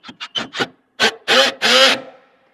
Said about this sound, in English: we've got our square drive right here to go ahead and get these screwed in